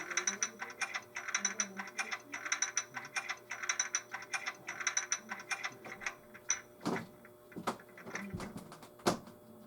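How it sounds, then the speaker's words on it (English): Hand brake sound effect on an Atlas ALCO C-424 model locomotive in Erie Lackawanna #2405 livery: a fast run of crisp ratcheting clicks for several seconds, then a few sharp, hissy bursts, with no talking. "14 is the hand brakes."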